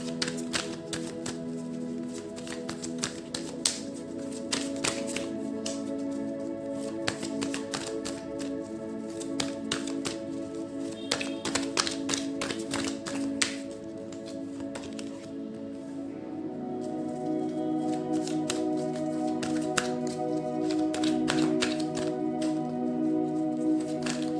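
A tarot deck is shuffled and the cards are dealt out, with quick papery flicks and taps in bursts over soft continuous background music, growing steadier toward the end.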